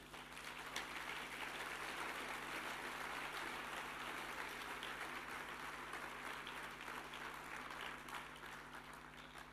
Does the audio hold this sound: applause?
yes